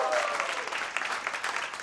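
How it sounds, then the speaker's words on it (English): Audience clapping fills a live comedy-illusionist stage show as a volunteer is called up, a steady dense patter of many hands lasting the whole moment at moderate volume. "Give Harshad a round of applause"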